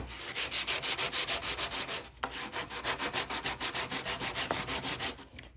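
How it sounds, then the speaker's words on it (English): Sandpaper wrapped around a flat block rubbed back and forth over a wooden piece for a camper build, a steady run of close, rhythmic strokes with a brief pause midway. "just wrap your sandpaper around that, and that'll give you a good flat surface when you have to sand this."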